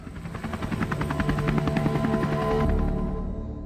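A helicopter taking off, its rotor thumping in a fast, steady rhythm, loud and close, with the engine whine building.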